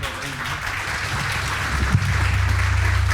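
Steady applause from a church audience after a sermon, filling the whole stretch at moderate loudness, with a low sustained hum beneath.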